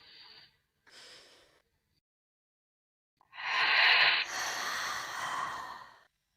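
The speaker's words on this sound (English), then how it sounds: "notice the coolness on your inhale and the heat on your exhale" Slow, deep breaths taken close to the microphone: two short soft exhales, a pause of silence, then one long, strong inhale followed by a lengthy airy exhale, with no talking.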